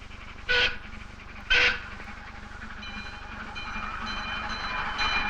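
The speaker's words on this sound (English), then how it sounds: "What's this coming? The park's miniature steam engine." A park's miniature steam train rumbles steadily past, with two short whistle blasts early on and a rising mechanical hum and clatter, in 1964.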